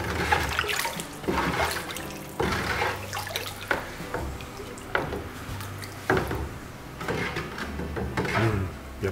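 Oribe pottery glaze being stirred in a container, with repeated wet sloshing and scraping strokes at close range, fairly quiet with short pauses between the strokes.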